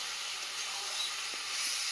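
Duck meat sizzling in a covered pan over a wood fire as the lid comes off, a soft steady frying hiss throughout at moderate distance, with no voices.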